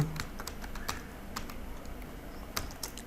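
Keys clatter on a computer keyboard as a layout file name is typed, giving a quiet, uneven run of clicks with a few sharper taps and no talk.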